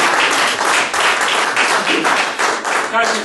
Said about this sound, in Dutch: Kijk eens, ik krijg een mooi applaus.